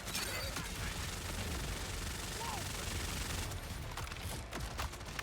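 Rapid assault rifle fire in Borderlands 4 forms a dense, continuous roar of shots for most of the stretch, thinning into a few separate cracks near the end, with talk faintly underneath.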